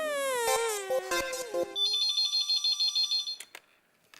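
A telephone rings in a Taarak Mehta Ka Ooltah Chashmah household scene, a steady electronic warble repeating in short pulses for a few seconds right after a voice stops, then cutting off.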